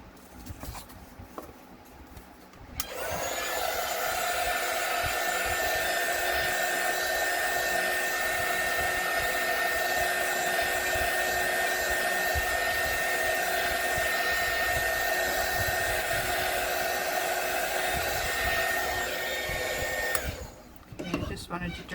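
A hair dryer blows steadily over a watercolor holiday card, a loud continuous whooshing hum lasting about seventeen seconds, switched on after a quiet start and cut off near the end.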